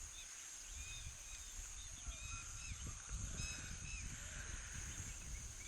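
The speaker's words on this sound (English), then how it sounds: "There were a lot of birds as well" Birds call across an open waterhole in the evening, scattered chirps and whistles over a low rumbling background, with a few goose-like honks in the mix.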